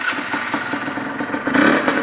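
A modified Honda CRM 125 two-stroke motorcycle with a modified exhaust, warmed up and revving nearby, a loud raspy burbling engine note that rises sharply near the end.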